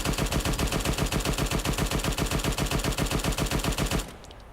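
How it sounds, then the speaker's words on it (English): Rifle rounds are fired at the firing slit of a bunker in a rapid, evenly spaced stream of loud, sharp cracks that stops abruptly near the end. "we can start putting rounds into the actual bunker, into the firing slit"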